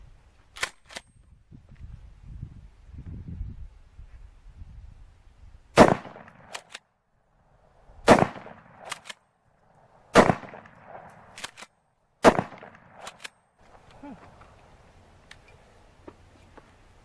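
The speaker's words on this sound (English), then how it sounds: "Let's see what the shotgun does. Alright, let's move on to the 12 gauge." 12 gauge shotgun fired at an Auxbeam LED light bar outdoors: five loud, sharp blasts spaced about two seconds apart, each with a short echoing tail, then quiet ambience.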